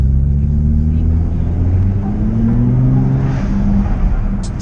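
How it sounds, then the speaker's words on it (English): Nissan GT-R R35 making around 600 horsepower revs in a deep, loud, continuous rumble that rises and falls, with a brief sharp hiss from its GFB blow-off dump valve at the very end. "Tickling that dump valve there."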